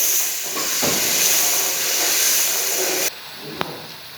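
Tomato paste for an arbi (taro) curry frying in a pan, a steady loud hiss of steam and sizzle that cuts off abruptly partway, followed by quieter background and a single brief click.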